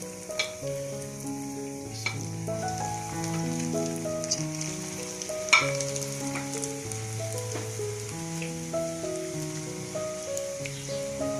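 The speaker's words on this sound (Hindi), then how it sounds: "2 मिनट मैं एक साइड पे पकाऊंगी, 2 मिनट दूसरी साइड।" Potato bread rolls fry in a pan as a steady sizzle under louder melodic background music, with one sharp click midway.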